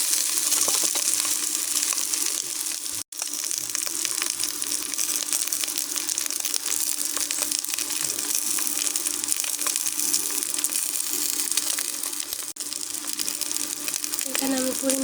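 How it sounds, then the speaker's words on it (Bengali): Water is poured into a pan of egg curry with whole eggs in spice paste, a continuous close hiss and gush over sizzling with one brief break, and no talking. "এখানে আমি পরিমাণ মতো জল দিয়ে দেবো।"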